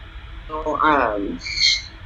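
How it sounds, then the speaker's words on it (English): Birds call outdoors with a rising, harmonic screeching cry near the middle and a brief high squeal toward the end, fairly close against light background noise. "if you hear birds screeching, that is where I am right now"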